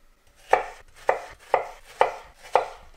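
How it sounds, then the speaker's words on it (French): A knife chops watermelon into cubes on a board with five sharp, evenly spaced thuds, close and clear with no talking. "Et pour la pastèque, on va découper des cubes."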